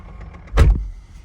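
A single solid thunk as the door of a Mercedes SLS Electric Drive swings shut, close and loud against a quiet background.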